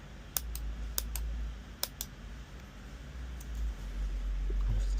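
Scissors snip away excess hardened superglue on a sneaker repair, a few sharp close clicks early on, then fainter snips over a low steady background hum.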